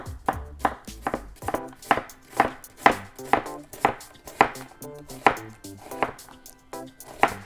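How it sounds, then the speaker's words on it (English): A chef's knife slices through an onion on a cutting board in steady, evenly spaced chops, about a dozen crisp close knocks in a regular rhythm with no talking. "hold the onion like thus, and then make progressive cuts all the way through"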